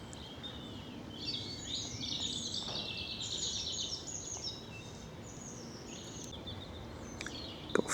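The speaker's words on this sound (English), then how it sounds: "there's so much birdsong going on. Robins, great tits, blue tits," Robins, great tits and blue tits singing on a countryside walk at Burnham Green in spring, several chirping and trilling calls at moderate distance over a constant outdoor background rumble.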